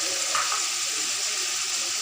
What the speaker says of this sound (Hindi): अब मसाले को अच्छी तरह भून लेंगे